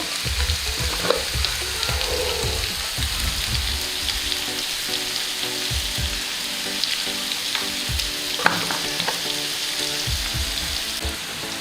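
Washed fenugreek greens sizzle and fry steadily in a pan, with repeated stirring scrapes and clatters throughout, loud and close with no voices.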